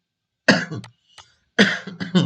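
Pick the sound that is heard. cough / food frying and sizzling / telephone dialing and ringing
cough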